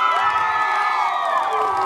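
A crowd at a stage show sends off departing guests with a loud burst of cheering, whooping and clapping, many voices shouting together close by throughout.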